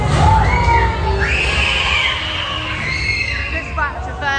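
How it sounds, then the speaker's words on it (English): Riders on the Hyperia roller coaster at Thorpe Park scream together in a loud, sustained chorus of high-pitched shrieks, with rushing wind and crowd noise. "Everyone's screaming."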